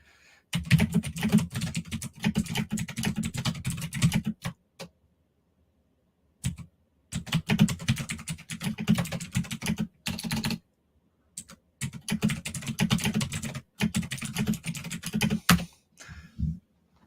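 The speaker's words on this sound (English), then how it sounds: "Let me type that out real quick." Typing on a computer keyboard in three long bursts of rapid, close clicking with short pauses between them, no talk over it.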